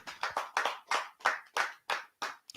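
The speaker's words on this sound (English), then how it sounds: "Clap it up." A group claps hands at a brotherhood class in Fayetteville, North Carolina: about ten sharp, evenly spaced bursts of applause, loud and close, with no talking over them.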